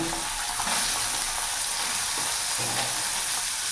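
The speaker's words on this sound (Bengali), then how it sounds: "ওই তেলের মধ্যে আমি এবার সয়াবিনগুলো ভেজে নেব" Soya chunks fry in hot oil with a continuous dense sizzling hiss, close and steady throughout, with faint low clinks underneath and no voices.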